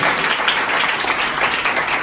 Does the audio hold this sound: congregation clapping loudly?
yes